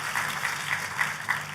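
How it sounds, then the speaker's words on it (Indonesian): A church congregation claps steadily in a dense, even wash of applause that holds at a moderate level for the whole moment, with no voices. "Tepuk tangannya pula yang paling meriah buat Tuhan kita."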